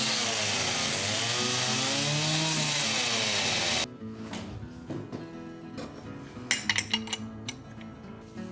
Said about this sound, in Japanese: 狭い間をねチェーンソーの刃でこすっていくんですけど